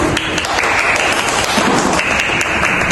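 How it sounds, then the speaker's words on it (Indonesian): Classmates in a micro-teaching classroom clap for the first presenting group, a short burst of brisk, close applause at a steady level throughout. "Beri tepuk tangan pada kelompok 1."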